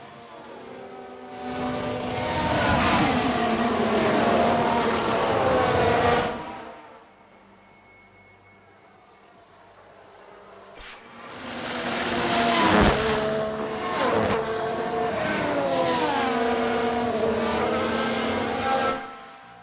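Formula 1 race car engines in the F1 Manager 22 racing game, a loud high-revving wail that swells as cars pass close by, fades to near quiet, then returns as another pack screams past.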